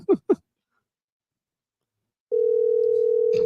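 A telephone dial tone sounds as a call is placed, coming in after two short blips and a silent gap and holding as a steady, loud, unbroken tone to the end.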